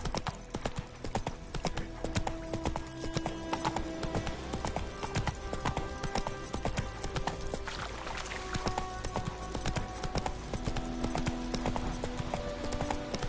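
Hooves of Roach, the horse in The Witcher III, clop in a rapid, steady rhythm as she trots along a road, continuous and fairly close with faint game ambience beneath.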